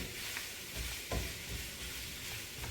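Pre-cooked steak for keto carne asada being reheated and stirred in a pan gives a soft, steady sizzle with a few scraping stir sounds, fairly quiet throughout.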